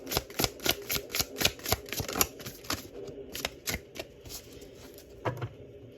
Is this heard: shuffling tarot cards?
yes